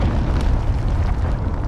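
A cruise missile explodes in a video game, giving a deep, rumbling blast that rolls on steadily at a close, loud level.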